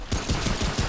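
Rapid pistol gunfire in the video game Remnant: From the Ashes, a quick burst of several sharp shots in close succession, loud and near, with no talk.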